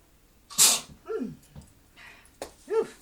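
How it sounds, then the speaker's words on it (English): A single sharp, loud sneeze bursts out, followed by a few quieter vocal noises and breaths. "going to sneeze"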